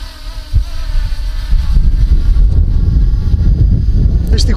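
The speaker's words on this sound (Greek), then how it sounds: "Δυστυχώς ο αέρας δεν μας βοηθά καθόλου." Heavy wind buffets the microphone while flying a JJRC Heron X9 drone, a loud low rumble that grows stronger and stays constant through the rest of the clip.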